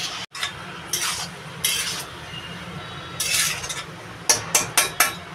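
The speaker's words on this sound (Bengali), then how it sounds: "আমার এদিকে কপি ভাজাটা হচ্ছে" Cauliflower frying in a pan on a home stove and being stirred, heard as a faint steady sizzle broken by several sharp scraping and clinking stirring strokes, closing with a quick run of four clatters.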